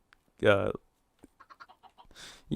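Blocky game chickens in a Minecraft-style world give a few short clucks, faint and scattered after a brief spoken word, with a soft burst of noise at the end.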